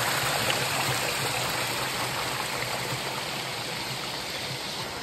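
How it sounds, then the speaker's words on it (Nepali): Water flows steadily from a mountain spring water source in a continuous close stream-like rush, unbroken and fairly loud, with no voices over it. "हाम्रो पानीको मुहान चाहिँ यहाँ हो"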